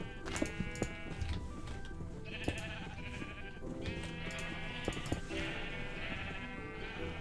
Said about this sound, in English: I'm gonna have to move those sheep.